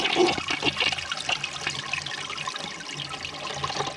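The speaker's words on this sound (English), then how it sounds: "So let's flush it." A toilet flushes in one continuous rush of running and swirling water, loud and close, with no talking over it.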